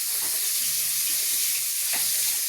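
Oil heating in a kadai before tempering with fennel for a prawn gravy, giving a steady soft sizzle with faint stirring scrapes, alone and fairly close.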